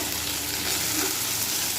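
Potatoes fry with poppy seeds in a pan for Bengali aloo posto, a loud, close, continuous sizzle with steady crackling hiss and light stirring throughout.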